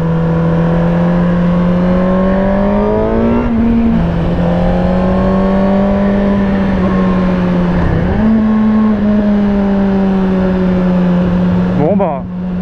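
A 2017 Suzuki GSX-R 1000 sportbike holds a loud, steady engine drone while riding, its pitch rising and dipping with throttle changes near 4, 8 and 12 seconds.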